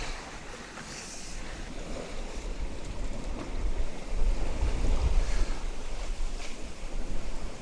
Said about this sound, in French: c'est du vrai vent qu'on a à 15 nœuds, 16 nœuds